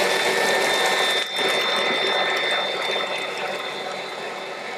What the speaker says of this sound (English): so I'll turn the mixer on again, and I will add this a little bit at a time